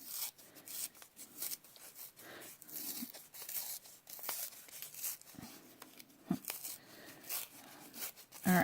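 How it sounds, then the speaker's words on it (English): Layers of cardstock being peeled apart around the edges during a faux suede paper technique, giving a soft, continuous tearing and rubbing rasp with small crinkles, close and quiet with no voices. "you just keep peeling and peeling"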